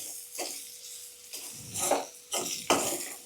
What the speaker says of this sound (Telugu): దీన్ని మనం మంచిగా కలపాలి.